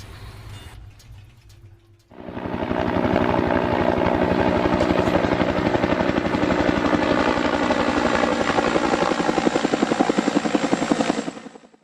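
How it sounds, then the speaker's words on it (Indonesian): After a short quiet lead-in, a helicopter roars in and holds steady, its rotor chopping in a fast, even pulse, loud and close. "itu adalah bunyi helikopter."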